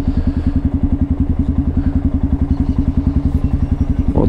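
Honda Lander motorcycle engine running steadily during a ride, a loud close single-cylinder thump beating in a fast even rhythm throughout, with no talk.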